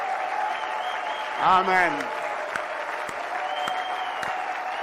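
Congregation applauding and cheering during a church service, a steady dense wash of clapping throughout, with a voice rising briefly over it in the middle.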